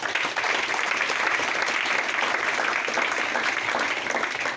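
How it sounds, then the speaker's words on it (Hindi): Hearty applause for the guru rises from an audience at a DXN health meeting, a steady, dense patter of many hands clapping at full strength throughout with no voices breaking through. "एक जोरदार ताली"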